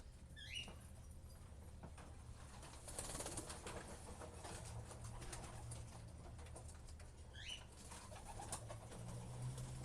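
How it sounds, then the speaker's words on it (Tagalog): Racing pigeons in a loft on shipping day make low soft coos and rustles, with a couple of brief chirps and faint background noise, and no voices. "Ito yung pinakamabilis sana nating ibon na inaasahan."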